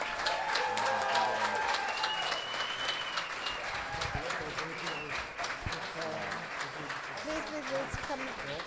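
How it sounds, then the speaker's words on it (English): Audience applause at a young chefs' award ceremony rolls on steadily from a crowd in a hall, a dense patter of many hands with cheers and voices mixed in throughout. "Huge applause."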